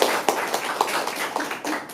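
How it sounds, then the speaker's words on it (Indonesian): An audience clapping in a meeting session on positive discipline, a scattered, moderate run of hand claps with irregular sharper hits, fairly close and without talk. "berikan tepuk tangan buat Bu Dela"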